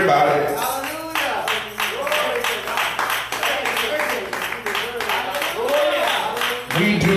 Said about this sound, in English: Clap those hands, everybody.